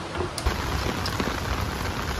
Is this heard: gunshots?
no